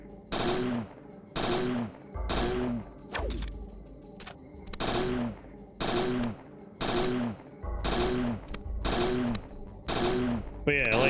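Bursts of rapid automatic gunfire from the player's weapon in the video game Parasite Eve 2, roughly ten evenly spaced volleys each lasting about half a second, loud and close, with someone talking faintly in between.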